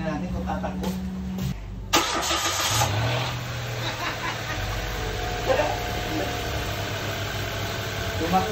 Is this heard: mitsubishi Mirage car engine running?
yes